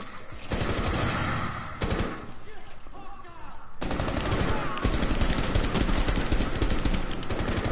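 Gunfire in the Rainbow Six Siege video game: dense automatic bursts of rapid shots, loud and close. A brief lull comes near the start, then sustained firing continues to the end.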